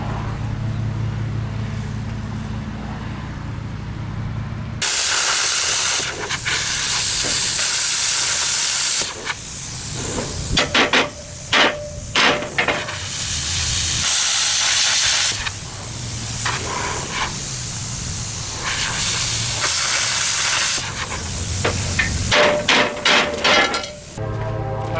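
Welding a thick steel adapter onto a 22.5-inch semi truck wheel: loud hissing, crackling arc bursts that start and stop in several long runs, with sharp spattering pops between them, close and harsh, with no voices.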